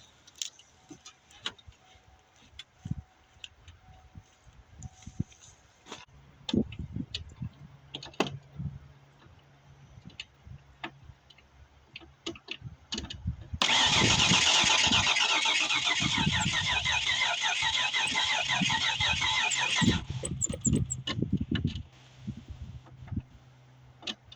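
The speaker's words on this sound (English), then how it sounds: "Let me keep cranking on here, see what happens." A Nissan Pathfinder or Mazda B4000 engine parked for 13 years cranks in short rhythmic bursts, then catches and runs loudly and steadily for several seconds before dropping back, with clicks and handling noises around it.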